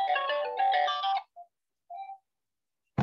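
A telephone rings during a French-language video conference, giving a melodic electronic ringtone phrase for about a second, then a couple of brief tones and a short sharp click near the end, close and fairly clear.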